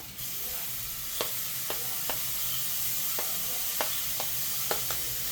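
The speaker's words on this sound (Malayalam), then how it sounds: "ഇതും കൂടെ ചേർത്ത് നമുക്ക് നന്നായിട്ടൊന്ന് നല്ല അടിക്ക് പിടിക്കാതെ നന്നായിട്ടൊന്ന് ഇളക്കി കൊടുക്കാം" Crushed green chillies for chicken biryani frying in hot oil, with a steady loud sizzle and about eight sharp taps of a stirring spoon against the pan at irregular intervals.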